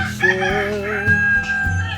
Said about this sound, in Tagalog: Naririnig mo lang talaga yung mga tilaok, manok